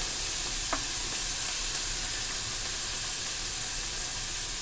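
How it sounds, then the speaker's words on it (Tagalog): Vegetables cooking in a pan give a steady, loud, dense hiss of sizzling that holds evenly throughout, close up, with a faint clink early on and no talk. "Para maluto yung gulay niya, dyan lang."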